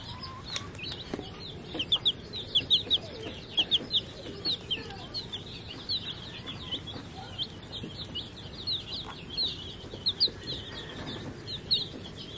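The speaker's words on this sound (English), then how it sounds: "You like that little chicken, Alexa?" Chickens cluck on a farm in a steady series of short, repeated calls at moderate distance over a soft outdoor background.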